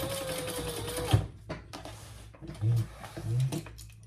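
A sewing machine stitches an enlarged triple sling, running in a quick mechanical whir before stopping, then firing short stitching bursts and clunks close by in a quiet room.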